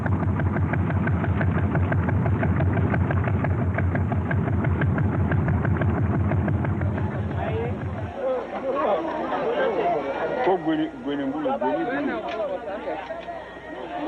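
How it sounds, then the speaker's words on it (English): A diesel engine on a large passenger canoe on the Niger river throbs steadily with a rhythmic chugging, while a crowd of voices babbles throughout and grows more prominent in the second half. "Powered by diesel engines, it carries 200 passengers at a time."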